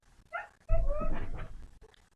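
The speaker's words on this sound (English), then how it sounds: "that's my dog. She wants some attention." A female dog outdoors gives a short yelp followed by a longer whining, whimpering bark seeking attention, heard at a moderate distance and fairly faint.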